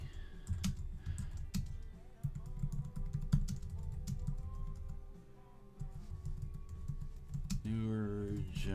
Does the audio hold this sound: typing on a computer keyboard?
yes